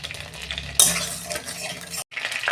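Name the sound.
oil sizzling in a wok while cooking pomfret curry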